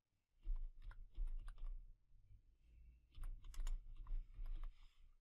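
Typing text on a computer keyboard: two bursts of quick, close key clicks separated by a short pause, light and crisp with no talking.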